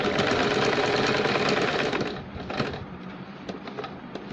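A sewing machine runs steadily while stitching a straight seam on a baby girl's shirt, a close, continuous rapid whirring that eases slightly halfway through and continues with light clicks.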